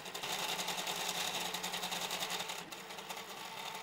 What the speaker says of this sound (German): Die Mechanik des billigen Druckers im Zusammenspiel mit dem handgefertigten Extruder führt zeitweise zu einer recht hohen Geräuschkulisse.